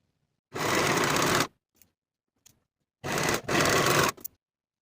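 Sewing machine stitching cardigan shoulder seams in two quick bursts of rapid, buzzing stitching, close and clear, separated by a pause with a couple of faint clicks.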